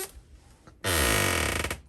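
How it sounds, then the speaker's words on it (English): A pantry door swings open with a sudden loud, drawn-out creak lasting about a second, after a few faint household rustles. "Oh, that's a really loud door."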